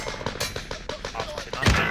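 Rapid bursts of automatic gunfire crackle in Call of Duty Warzone on the Caldera map, a string of close, sharp shots with a louder blast near the end, while a player talks over them.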